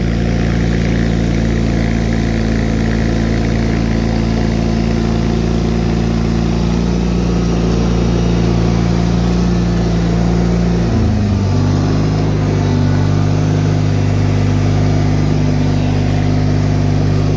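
Bolens HT-23 garden tractor engine, with a blown head gasket and clogged cooling fins, running loud and close at a steady idle, with a brief dip and rise in pitch near the end as the revs change.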